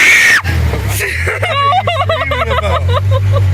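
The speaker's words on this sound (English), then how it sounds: "are you screaming about?" A person screams and shouts after falling as a side-by-side ATV partly slides into water, voices rising sharply over a steady low engine idle, with other people talking nearby.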